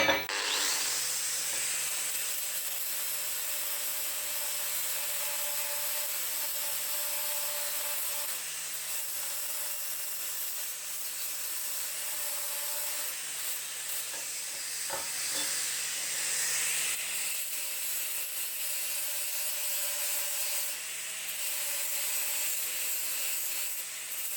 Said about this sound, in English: I'll just sand off these burrs where the material's been munted over